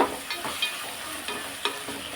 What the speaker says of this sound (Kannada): ನೋಡಿ ಈ ಥರ ಎಣ್ಣೆಯಲ್ಲಿ ಫ್ರೈ ಆಗಲಿ ಚೆನ್ನಾಗಿ